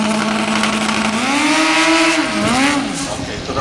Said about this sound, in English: he's going to plant the throttle to the floor with the brake on